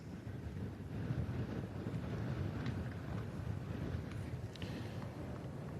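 Wind sweeps across a golf course at the Open Championship and buffets the microphone in a steady, low roar that carries through the whole stretch with no break.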